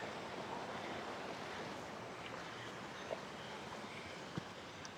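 Continuous soft rushing of a small river in Cerca, Bailen, Cavite, steady broadband flow at close range with a couple of faint splashes or knocks, no voices.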